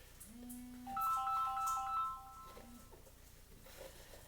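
A phone ringtone plays a short electronic melody of stepped beeping notes, moderately loud, over faint background noise, then stops.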